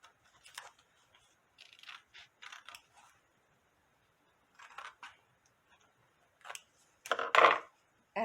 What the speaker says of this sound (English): And here's my Santa body, and I'm going to go ahead and I'm going to cut that out.